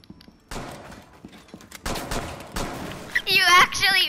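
Enemy gunfire aimed at the players in Rainbow Six Siege, a few sharp shots and short bursts scattered among loud, close voices talking over them.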